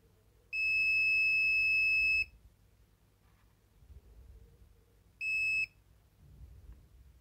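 A Fluke contactless voltage detector held near a live circuit gives a loud, piercing electronic beep lasting nearly two seconds, then after a quiet gap a second, much shorter beep, each standing alone over faint background handling.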